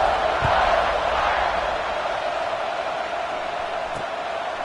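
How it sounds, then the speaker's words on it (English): A football stadium crowd buzzes after a score, a broad steady roar of many voices, loud and sustained, with faint thumps underneath. "this crowd is buzzing after that last score"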